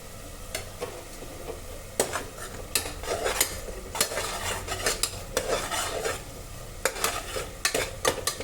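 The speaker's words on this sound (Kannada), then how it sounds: "ಚೆನ್ನಾಗೆಲ್ಲ ಈ ಥರ ಫ್ರೈ ಮಾಡ್ಕೊಳ್ಳೋಣ." Tomato bath with mint fries in a pan with a steady soft sizzle, while a utensil stirs and scrapes the metal in irregular clinks and strokes, close and clear, with no talk.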